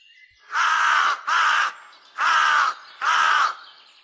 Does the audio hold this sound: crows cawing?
yes